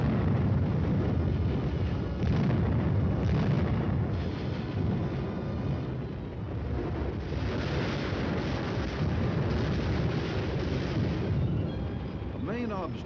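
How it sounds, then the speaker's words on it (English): An artillery barrage hammers an enemy strong point: a dense, continuous rumble of blasts with repeated heavier bursts, heavy and booming throughout. "the firing data is prepared and the guns respond"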